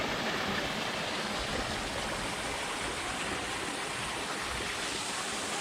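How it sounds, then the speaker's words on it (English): Steady rushing water from a small waterfall in a koi pond pours continuously, a broad even splash like a small cascade, close and unbroken for the whole stretch. "Nice little waterfall."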